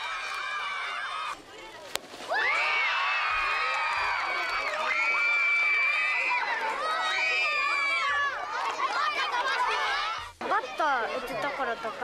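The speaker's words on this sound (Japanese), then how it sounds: "最後は佐藤輝明選手が豪快なバッティングを披露し、子どもたちから歓声が上がっていました" Children cheer and shout excitedly as Hanshin Tigers player Teruaki Sato shows off powerful batting at a school visit in Nishinomiya. A loud, sustained crowd of high young voices rises in overlapping waves, dips briefly, then swells again.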